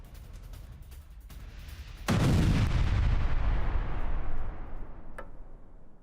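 Explosion from a Russian drone attack in Kharkiv: a heavy, loud boom hits suddenly and rumbles on for about two seconds, then decays into a lingering roar. No voices are heard.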